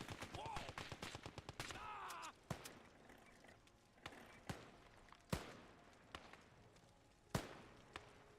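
Rapid bursts of machine gun fire up front, then scattered single heavy gunshots and cannon booms spaced a second or two apart, with video game effects, in an alternate-history USA versus Soviet war game.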